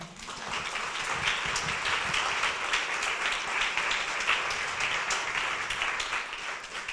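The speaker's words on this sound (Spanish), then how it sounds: "Un aplauso al Señor." A congregation at a Catholic religious gathering devoted to the Virgin Mary applauds, a dense, sustained wash of clapping from many hands that fills the room evenly for seven seconds and tapers slightly at the end.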